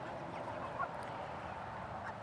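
Meat birds on a homestead give faint, distant honking and squawking calls over steady outdoor background noise, with one brief clearer call in the middle.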